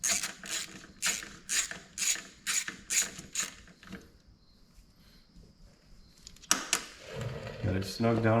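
A socket ratchet clicks in quick repeated bursts while tightening a 12mm bolt with a copper washer on a Polaris Sportsman 500 engine, then pauses before a few louder clunks and handling noises close by.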